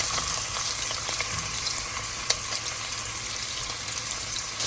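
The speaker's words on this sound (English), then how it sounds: "We're just gonna throw it all in so that it cooks down a bit." Chopped onions, bell peppers and garlic fry in a hot pan for a homemade marinara. A steady, dense sizzle carries throughout, with occasional sharp pops and light stirring clicks. No one speaks.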